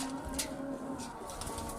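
Pigeons on a rooftop coo softly and steadily, a faint low murmur against light background noise.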